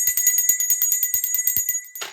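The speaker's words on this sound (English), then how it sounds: "I'm going to have to ring the bell on that." A small metal bell rings in a rapid trill of bright, close dings for about two seconds, then stops abruptly, with no other sound around it.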